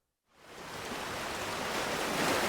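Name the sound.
sea waves at the seaside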